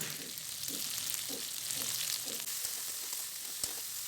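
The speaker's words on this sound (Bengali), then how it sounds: "আদা বাটা, টমেটোর পেস্ট, জিরে, লঙ্কা বাটা সব দিয়ে নাড়াতে লাগবো।" Ginger paste, tomato paste, cumin and chili paste fry in a pan with salt and turmeric, a steady close sizzle running throughout under a slow, regular rhythm of stirring strokes.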